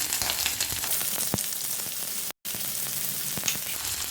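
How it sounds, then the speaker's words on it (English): Onion slices frying in hot oil for a bamboo shoot chicken dish give a steady, close crackling sizzle with small pops throughout, briefly cut off for a moment midway, no voices. "The oil is hot now. I'll add the onion slices."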